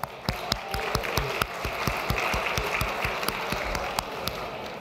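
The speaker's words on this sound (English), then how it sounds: "Give yourselves a warm round of applause." A conference audience applauds at the opening of a session, with dense, steady clapping that runs the whole time and sharper individual claps standing out at a fairly regular pace.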